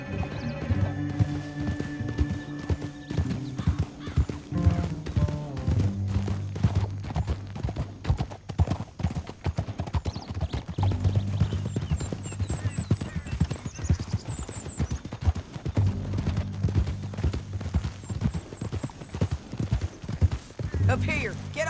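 Horse hooves clip-clop steadily in Red Dead Redemption 2, mixed with game music and effects while characters talk over them throughout.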